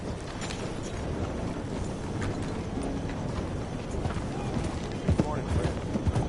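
Hooves of a horse in a video game clop in a steady galloping rhythm beneath a dense, busy game soundscape, with a character's voice briefly speaking over it.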